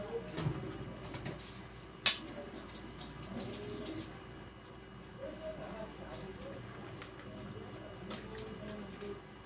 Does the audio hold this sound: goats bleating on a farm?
no